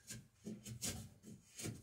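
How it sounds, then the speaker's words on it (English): Hand plane shaving along a gain cut in a wooden sheer strake plank, a series of five or six quick rasping strokes in close, even rhythm, faint and close by. "I'm planing along the gain below it and then out past and actually planing"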